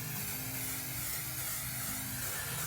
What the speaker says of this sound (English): I'm able to kind of get a slower spray pattern to achieve a really good consistent look